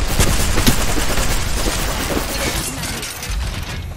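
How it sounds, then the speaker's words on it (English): Dense, rapid gunfire in Apex Legends, a loud continuous volley of close shots and impacts crackling without pause for several seconds. "I am taking fire."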